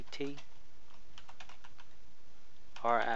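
Keystrokes on a computer keyboard come in a quick irregular run of close, light clicks and end in a short burst, with a voice talking over the last moment.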